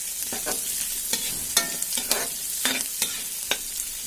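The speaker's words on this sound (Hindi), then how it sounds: "तो इसमें हम डालेंगे प्याज, टमाटर, तो थोड़ा पकाएंगे।" Onions and tomatoes cooking in a pan over low heat for poha, with a soft sizzle broken by a string of sharp spatula scrapes and taps as the mixture is stirred.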